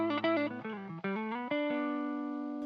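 An electric guitar through a fuzz pedal, its tone cleaning up, plays a quick run of notes that settles into one long sustained note fading slowly, loud and up close with no talk.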